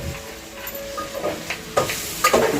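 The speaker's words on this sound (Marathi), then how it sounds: "इकडे कांदा सर्व भाजून घेते मामी वाटपासाठीच आपल्याला सर्व भाजून घ्यायचं" Onions roasting in a large pan for a masala paste, with soft sizzling under clattering stirring that grows louder and more scraping toward the end.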